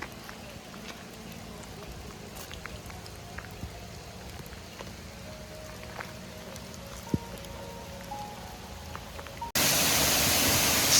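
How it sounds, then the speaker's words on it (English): Rain suddenly begins falling at Bada Forest Park in Pingtung County, a loud, dense wash that bursts in near the end after a stretch of quiet forest ambience with faint voices. "the rain starts"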